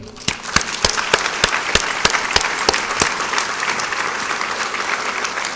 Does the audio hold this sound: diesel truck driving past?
no